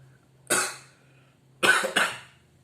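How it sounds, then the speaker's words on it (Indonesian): A sick man coughs three times close up in an otherwise quiet room, one single cough followed after a pause by two quick coughs. "Mohon maaf apabila ada batuk-batuk ya, karena memang posisi kakak lagi sakit."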